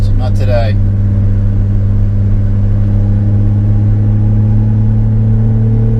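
A 1988 BMW iX, an old car, drives along a road with a steady, loud low engine hum and rumble throughout, while a voice speaks briefly at the start.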